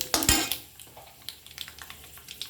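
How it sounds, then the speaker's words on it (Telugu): Red chillies frying in oil for a tempering, a sharp crackling spurt at the start, then light sizzling with a few spoon and pan clinks, close and quiet. "రెడ్ చిల్లీ వేసి వేయించుకోవాలి"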